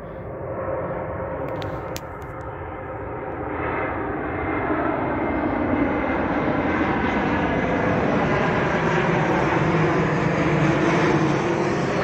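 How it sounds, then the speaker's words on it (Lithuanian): Two propeller airplanes passing overhead one after the other at dusk beside a trail around Vilnius, a steady broad engine drone that swells and holds loud throughout. "Net ne vienas, du lėktuvai atskrenda."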